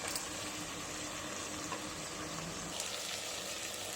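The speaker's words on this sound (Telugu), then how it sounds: "ఇట్లా కొంచెం ఆయిల్ పైకి వచ్చేదాకా ఉడికియాలి నూనెలో." Chicken cooks in oil in a covered pot, giving a steady, soft sizzling and bubbling hiss that runs evenly throughout with no talking.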